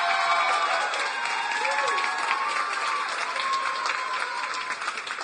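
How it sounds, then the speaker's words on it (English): Audience applause at a startup accelerator demo day, a steady dense wash of clapping from a large crowd that holds evenly and fades slightly at the end, with no voices over it. "Hey, keep clapping."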